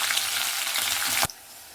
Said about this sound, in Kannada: ಇವಾಗ ನಾನು ಹಸಿಮೆಣಸಿನ್ಕಾಯಿ ಮತ್ತು ಕರಿಬೇವಿನ ಸೊಪ್ಪು 2 ಒಟ್ಟಿಗೆ ಹಾಕ್ಬಿಡ್ತೀನಿ